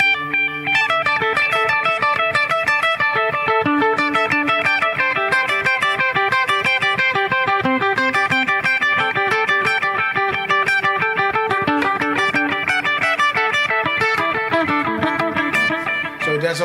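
Electric guitar solo through a delay effect, a continuous run of fast picked notes with repeating echoes that follow the rhythm, loud and sustained throughout with no voices.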